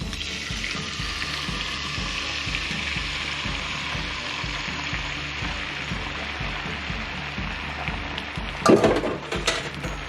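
Eggs fry in a hot pan beside sharp-tailed grouse, giving a steady broadband sizzle throughout, with a brief louder burst of crackling and clatter near the end.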